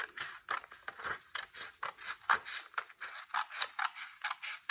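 Scissors snip repeatedly through paper or card while cutting a tent-shaped craft piece, a steady series of close, crisp cuts with short pauses between strokes.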